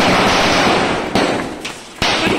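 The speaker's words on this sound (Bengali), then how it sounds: "আজকে চাঁদ ওঠার পর থেকেই আমাদের এই এলাকাতে শুধু আতশবাজি ফাটানোর শব্দই পাওয়া যাচ্ছে" Firecrackers and fireworks go off in a residential neighbourhood on Eid moon night, a loud crackling wash broken by two sharp bursts close together near the end.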